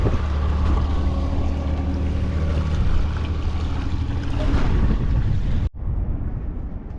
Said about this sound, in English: It's windy here and the sun's going down